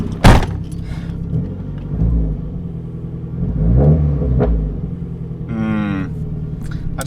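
Nissan GTiR engine idling lumpy and high while not fully warmed up, with a loud, close, uneven rumble and a sharp knock near the start and a rising tone toward the end.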